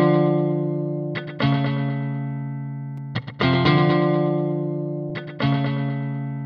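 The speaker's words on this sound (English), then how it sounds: "take that to no effect and listen back to our guitar track" Electric guitar track played back dry in a DAW with no delay effect, sustained chords struck three times with clean attacks and gradual decays, loud and alone with no talk.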